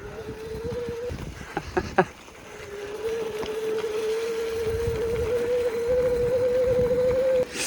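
Electric bike motor running while ridden, a steady whining hum that holds nearly the whole time, interrupted briefly by a few sharp knocks before settling back in, with wind-like rush around it.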